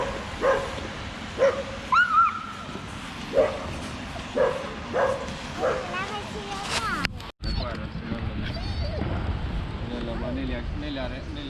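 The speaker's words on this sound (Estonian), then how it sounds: "Meie koer teeb nii ilusat mehist" A pet dog makes a string of short whimpers, yips and soft vocal moans at close range, spaced irregularly through steady background noise and some talk.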